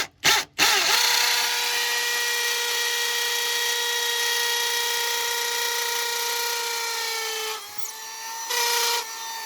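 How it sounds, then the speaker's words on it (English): A power drill bores steadily into a wall to mount a 3M Aqua Pure drinking water filter system, with a loud, continuous whine after a couple of short starts and brief dips near the end. "All right, let's drill some holes."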